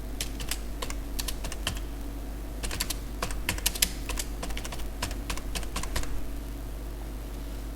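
Fingers type in quick irregular bursts of sharp clicks on a computer keyboard while writing a simple Qt console program, close and fairly quiet over a steady low hum.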